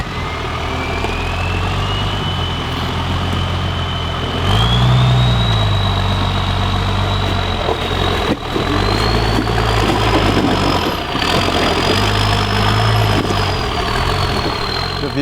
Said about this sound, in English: it was converted to a Cummins 6BT diesel motor